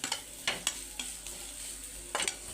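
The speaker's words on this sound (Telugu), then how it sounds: "రుచికి సరిపడా కారం, చికెన్ మసాలా పౌడర్, చాట్ మసాలా అన్నీ వేసి ఒకసారి బాగా మిక్స్ చేసుకుందామండి." Chili powder, chicken masala powder and chaat masala are stirred into a sizzling mixture in a pan, with several sharp scraping strokes of the utensil over soft, steady frying.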